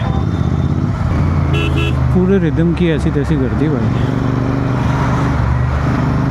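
Congested city road traffic in Sector 62 rumbles steadily, with cars and motorcycles close by and several short horn toots and wavering honks cutting through, while someone talks over the noise.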